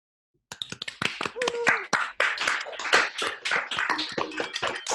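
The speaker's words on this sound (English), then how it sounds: "let's have a round of applause" A small online meeting audience claps at the close of a conference session, scattered individual claps and taps starting abruptly and overlapping irregularly, with a cheerful voice or two mixed in.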